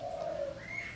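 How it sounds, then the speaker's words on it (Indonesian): A zebra dove (perkutut) in a cage gives a single short, clear coo that slides down and then rises, close and alone. "Burung perkutut ini ada 2 macam suara ya."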